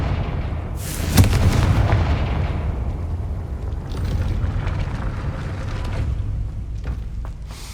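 The Confringo blasting spell goes off in Hogwarts Legacy, a loud booming explosion that hits about a second in and then leaves a long, heavy rumble rolling on for several seconds.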